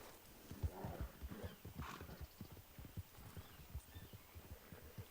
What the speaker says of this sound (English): Whose horse is that? Someone might want to get that horse out of the way